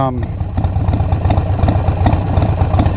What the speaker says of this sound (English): there's the pipes. As you can hear them, they're pretty, they're really quite throaty and lumpy and deep